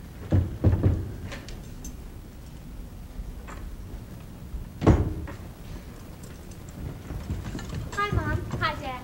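A household door clatters open and shut with knocks and a sharp bang midway, set among people talking in a domestic scene from an old television program.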